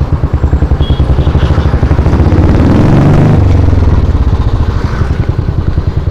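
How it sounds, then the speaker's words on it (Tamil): Steady road traffic, with motorcycle and car engines droning and revving close by, loud and continuous, with a rattling engine pulse and a swell of passing vehicles partway through. "ஒரு வாரமாவே இங்க டிராபிக்கா தாங்க இருக்கு"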